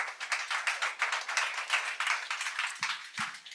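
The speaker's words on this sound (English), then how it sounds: "A round of applause for Cheryl, please." Audience applause in a hall, many hands clapping in a steady, moderately loud patter heard from a little distance, with a couple of sharper claps near the end.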